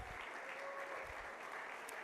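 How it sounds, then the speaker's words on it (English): Audience applause at an intergenerational dialogue event in Accra, a brief, even burst of clapping heard from a distance at low level. "A round of applause."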